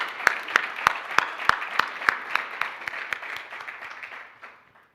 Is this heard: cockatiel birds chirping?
no